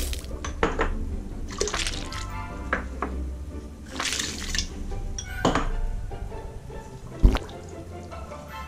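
Ingredients for a venison pastrami brine are stirred into a gallon of water, giving close clinks and scrapes of utensil against container with light sloshing of liquid, in irregular bursts and without talk.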